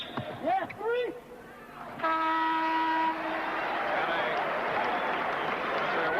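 At an NCAA basketball game between North Carolina and Virginia, a referee's whistle blows in one sustained shrill blast of about a second, followed by steady crowd noise, with a commentator speaking just before.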